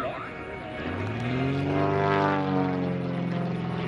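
A propeller airplane engine swells in power, its droning buzz rising in pitch and loudness over a few seconds, fairly close.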